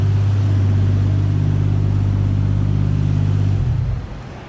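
A Toyota 2JZ engine with no coolant idles with a loud, steady low rumble close by, then shuts down near the end, the sound dropping away quickly.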